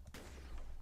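A single shotgun blast fires in the HorseGame video game demo, sharp and close, its roar ringing on briefly after the shot.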